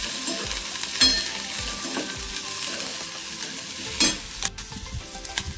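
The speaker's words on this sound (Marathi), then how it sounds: "तेल आणि छानसं आता मस्त याला परतून घ्यायचं" Masala sautéed in oil in a pan for a whole masoor thali, a steady close sizzle and crackle broken by scraping stirs and sharp spoon clinks against the pan.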